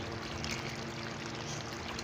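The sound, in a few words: water poured into potatoes cooking in a pan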